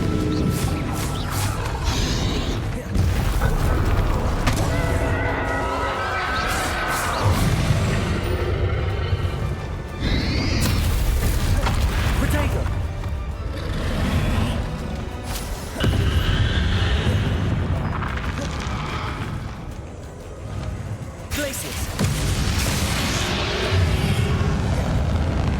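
Repeated booming spell explosions, Confringo and Bombarda, in a Hogwarts Legacy final battle, loud blasts recurring every few seconds over a dense churning background of combat noise and rumble.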